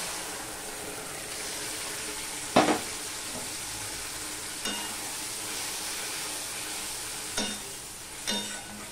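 Paneer pieces dropped into hot oil in a pan for a garlic-, onion- and tomato-free vegetarian paneer dish, giving a steady close sizzle with a sharp crackling burst as they hit, then a few smaller stirring clatters.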